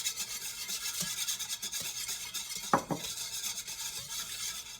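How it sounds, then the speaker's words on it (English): An egg and a cup of milk are whisked for gluten-free pancake batter: a continuous close scraping and rubbing of a whisk against a bowl, with a couple of sharper knocks, and nobody talking. "Whisk that up."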